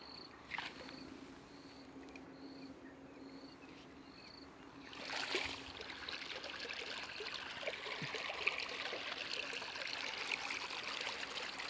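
Irrigation water flowing through a farm field channel, a faint, steady trickle and gurgle heard up close and alone, with soft insect chirps in the background and a brief louder rush partway through.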